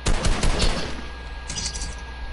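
Rapid bursts of gunfire in a PS4 shooting game, a cluster of loud close shots in the first half-second followed by another quick burst around the middle, all over a steady low game rumble.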